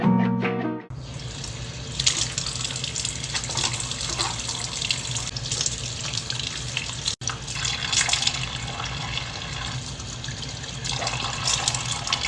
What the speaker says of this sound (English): Okay, we are gonna go wash my face.